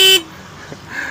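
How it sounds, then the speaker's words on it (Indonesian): A short, bright horn toot from a Honda ADV 150 scooter, heard once at close range before cutting off, with faint background noise after. "Masuk motor 35 juta suara klaksonnya kayak Honda Beat ya."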